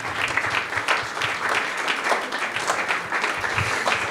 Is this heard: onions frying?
no